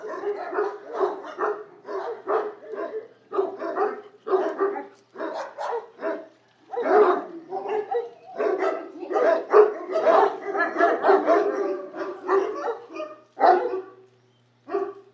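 Several dogs bark in repeated bursts of yips and woofs, fairly close and loud, with a few whimpers mixed in throughout.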